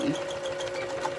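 A sewing machine stitches fabric for a mask laundry bag, its steady whirring hum running close and even throughout a short burst with no pauses.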